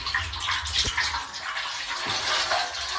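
Water pouring steadily into a vessel at the start of cleaning an old ceiling fan, a continuous broadband splashing rush throughout, with a couple of faint low knocks.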